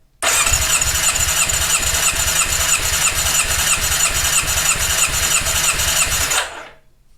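A Yamaha XJ600S motorcycle engine cranks over steadily on its starter during a compression test on cylinder 4, giving a fast rhythmic chugging with a whine for about six seconds before it cuts off, with no talk.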